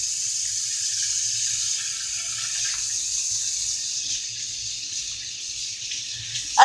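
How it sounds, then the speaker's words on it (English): Hands are washed under a running kitchen tap, a steady close splash of flowing water that continues without a break. "let me wash my hands right quick"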